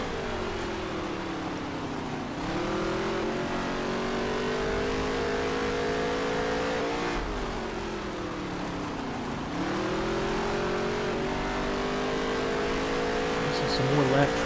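Race cars running in lap traffic in the NASCAR Heat 3 video game, a continuous loud engine whine that rises and falls with shifts and throttle changes, steady throughout with no spoken words.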